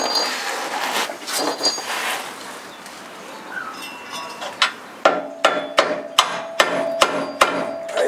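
Sharp metallic hammer taps ring out on a stuck bolt in the radius arm of a Bronco during a lift kit job, several spaced strikes coming closer together in the second half, with softer clanks and rustling before them.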